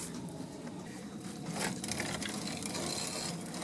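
Wild oat seeds are ground into flour by hand, giving a quiet, gritty scraping and rubbing that swells slightly partway through and continues softly to the end.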